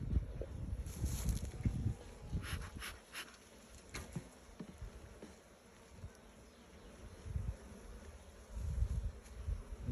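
Honeybees buzzing around a garden beehive as frames are worked, a low continuous hum with brief brighter swells close by, mixed with soft rustling and handling noise, no talk.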